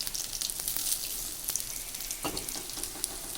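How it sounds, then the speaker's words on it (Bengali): Banana pieces frying in oil, a faint continuous sizzle with scattered small pops and crackles, heard close with no talking. "আমার কলা ভাজাটা হয়ে গেছে এবার তুলব"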